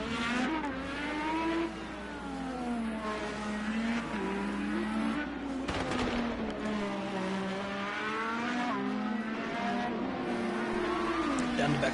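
Race cars lap a track in a racing video game at Long Beach, with several engines whining and rising and falling in pitch as they pass, loud and continuous, while a commentator talks over them.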